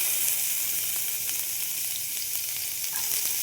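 Chopped onion sizzling in hot oil in a pan, a steady bright crackling hiss heard close with faint occasional pops, alone without talk.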